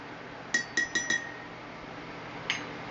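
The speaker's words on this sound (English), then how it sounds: "So now I'm just gonna stir it around a little bit." A spoon stirs iced chai tea in a glass, striking the sides in four quick bright clinks with a fifth faint tap after a pause, all alone in a quiet room.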